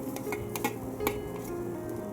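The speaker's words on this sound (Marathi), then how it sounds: "खोबरं हलक्या आचेवरती छान परतवून घेऊया।" Fresh grated coconut roasted in a pan over low heat, with soft scraping and stirring strokes and occasional light clinks of the spoon against the pan over a faint, steady sizzle.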